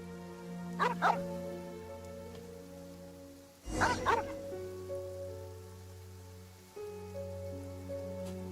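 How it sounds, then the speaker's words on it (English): A dog barking at a cemetery in the video game Genshin Impact, two short bursts of barks against soft rain-like ambience and a steady musical drone. "Why the barking at the cemetery?"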